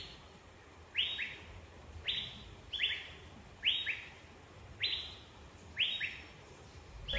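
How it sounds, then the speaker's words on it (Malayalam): Wild birds call along a forest path near Thodupuzha: about six short, bright whistled chirps spaced roughly a second apart over a quiet, hushed woodland background. "ഈ വഴി ഇങ്ങനെ നടക്കുമ്പോൾ ചില കിളികളുടെ ശബ്ദമൊക്കെ കേൾക്കാം"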